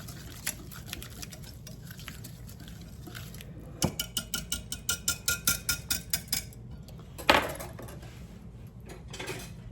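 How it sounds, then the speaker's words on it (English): A mixture whisked briskly in a bowl, a run of about ten quick, evenly spaced metallic clicks and taps near the microphone, with a softer clatter before and a louder clank after. "we're going to give this a good whisk"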